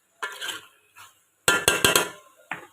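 Chicken being stirred with masala in a pot for chicken biryani, a few scraping and clanking strokes of a utensil against the pot, close and fairly loud, with short pauses between bursts.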